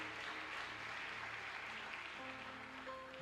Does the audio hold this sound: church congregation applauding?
yes